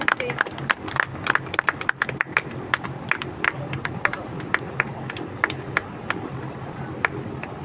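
Scattered, fairly sparse hand claps welcoming farmers at a Sonalika tractor agency opening in Bhadra, with crowd murmur and voices underneath.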